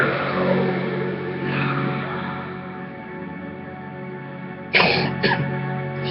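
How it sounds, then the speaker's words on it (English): A couple of sharp, close coughs burst out near the end over a continuous low rumbling hum. "I had to cough there for a second"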